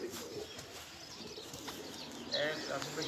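Pigeons kept at a rural loft coo softly and intermittently nearby, with faint chirps and a brief flutter, under low background noise.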